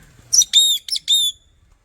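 A parrot gives four sharp, high chirping calls in a quick series, close by, with quiet between them and no talking.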